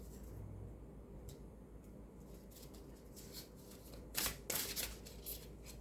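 Tarot cards handled and drawn at a table, soft quiet shuffling and sliding with a few sharper card snaps toward the end, close and faint with no talking.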